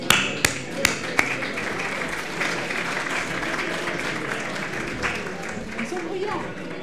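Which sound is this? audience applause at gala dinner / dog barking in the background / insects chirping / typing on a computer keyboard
audience applause at gala dinner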